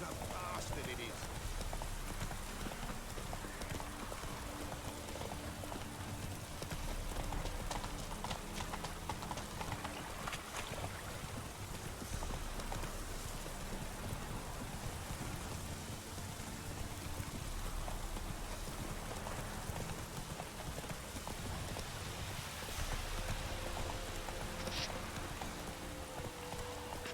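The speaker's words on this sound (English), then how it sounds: "This downpour's a bastard, it is." Steady rain pours down in a dense, hissing wash that continues unbroken, with faint talk and clattering beneath it.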